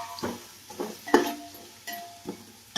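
Onions frying in a pan for chicken biryani, with several short scraping stirs of a utensil against the pan over a low sizzle, close and fairly loud.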